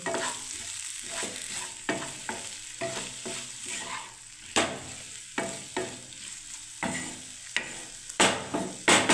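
Ivy gourd masala with mustard seed, cumin and coriander frying in a pan over a low flame, with a steady close sizzle and repeated scraping, stirring strokes.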